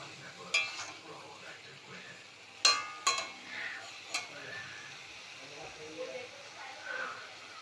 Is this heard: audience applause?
no